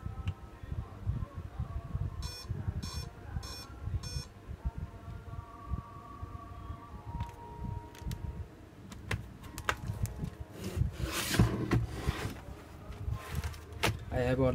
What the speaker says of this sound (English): There was an power on error and beep sound.